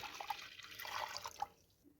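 Water being poured into a cooking pot for beet pickling brine, a steady mid-level splashing rush for about a second and a half that then tapers off, with no voices.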